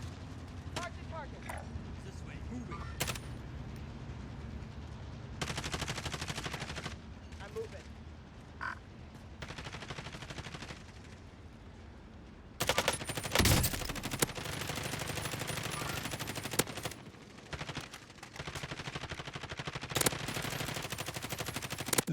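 Gunfire in Call of Duty Warzone, repeated automatic bursts and single shots from a squad fight, some near and loud, others farther off, mixed with a talking voice over the action.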